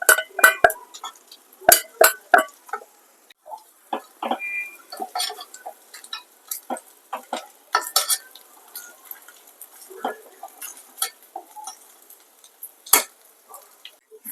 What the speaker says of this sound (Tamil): வறுத்து வச்ச முந்திரியும் பின்ன திராட்சையுமே சேர்த்துக்கிறேன்